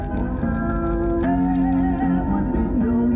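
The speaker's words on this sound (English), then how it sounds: "Here's the 8-track. It actually works." Music plays steadily from an 8-track tape player in a 1939 Ford Deluxe, a sustained melody with bright tones and a slightly muffled, lo-fi quality, no talking over it.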